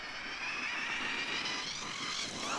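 Arrma Kraton EXB RC car motor at full throttle, a continuous high-pitched electric whine with rising tone, fairly faint and distant, carried by the car speeding away during a park bash.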